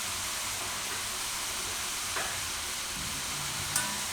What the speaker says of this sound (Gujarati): તો આને એકદમ સરસ કડક થાય એવા તરી લેવું આપણે.